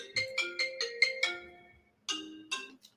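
A phone's melodic ringtone plays nearby, a quick run of bright chiming notes followed by a pause and two more chimes, clear and alone without voices.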